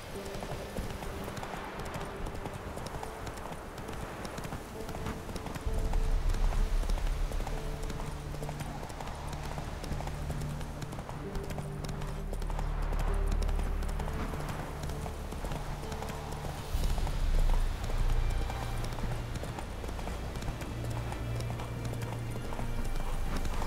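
Galloping horse hooves in The Witcher 3 pound in a steady rapid clip-clop throughout, loud and close, with a low rumbling background and no talk.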